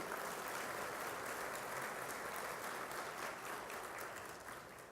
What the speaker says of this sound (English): Give yourselves a round of applause for making it in early this morning.